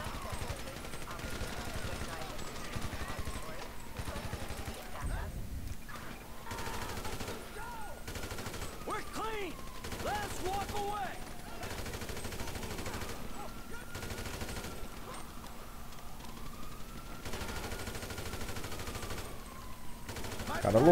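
Bursts of automatic gunfire in a GTA V shootout from a first-person view, repeated rapid volleys over a steady game soundtrack and engine drone, with someone talking in between.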